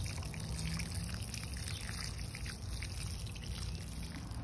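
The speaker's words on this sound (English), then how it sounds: "I'm going to water it with fish fertilizer." A plant is watered with fish fertilizer, a quiet, steady trickle of liquid running for several seconds without any speech.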